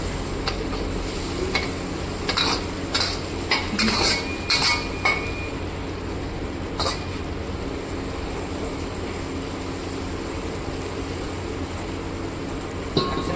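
A bulk tempering of ingredients fries in ghee for 250-person restaurant catering, with a hissing sizzle under a quick run of metal stirring clinks early on, then a steadier frying hiss.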